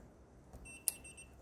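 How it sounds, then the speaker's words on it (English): RV keyless entry door lock on a Jayco travel trailer giving a single short, faint electronic beep against quiet background hum. "So we got the beep, so we know it's live."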